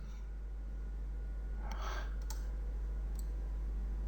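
Computer mouse clicks while working in the 3D Coat retopology software: a few faint, sharp clicks spread over a few seconds, close by against a steady electronic hiss, with no voice.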